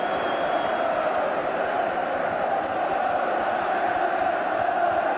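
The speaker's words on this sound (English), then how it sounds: "So this massive crowd celebrates a great goal and another win." A huge football crowd of about 36,000 roars steadily at St James's Park in Newcastle as Newcastle United fans celebrate a goal against Brighton and Hove Albion in 1984. The noise is loud, dense and sustained, with no break.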